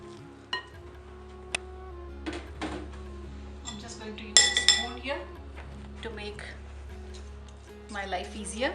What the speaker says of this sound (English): I'll gently stir in my dry ingredients a little at a time